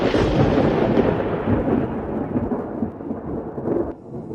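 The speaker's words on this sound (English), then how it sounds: "Storm's coming." Deep rolling thunder from an approaching storm, a loud continuous rumble that slowly fades and thins toward the end, with no other sounds over it.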